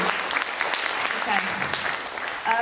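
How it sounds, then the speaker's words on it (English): A crowd at a comedy and storytelling event claps in a dense, even roar with no distinct single claps, loud and close, while murmuring voices mix in throughout. "yeah, go on, clap that."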